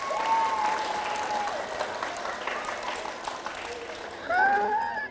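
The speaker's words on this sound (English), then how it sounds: "Give them a round of applause, folks." Audience applause at a library magic show, a steady wash of clapping from a crowd that swells again near the end, with some voices calling out over it.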